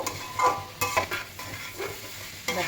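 Vetki fish and cauliflower frying in ghee are stirred in the pan: a steady sizzle broken by sharp, close scrapes and clanks of the spatula against the metal at irregular intervals, with no talking.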